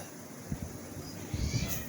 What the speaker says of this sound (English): my cats are playing outside the room.